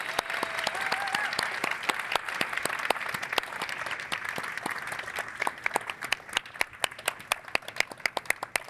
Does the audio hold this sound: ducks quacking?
no